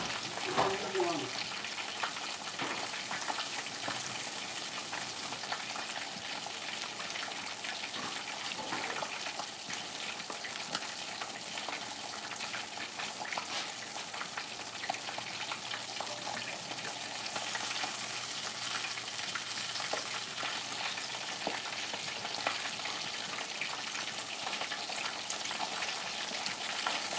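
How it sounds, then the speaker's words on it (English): Whole flounder deep frying in hot oil for fish and grits, a steady dense sizzle and crackle running throughout at an even level, with occasional faint stirring noises and no talk. "Deep frying it, guys. And for you that came in later, I am frying flounder and cooking grits, and I'm frying it whole."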